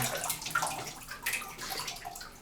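Water runs and splashes into a bathtub in a New York hotel bathroom, a close, steady gush with bright splashing and no talking.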